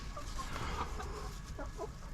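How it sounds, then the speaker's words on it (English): Several chickens cluck softly and continuously nearby, with a few short, sharper calls rising above the low, steady murmur. "Would you guys like to meet the new chickens?"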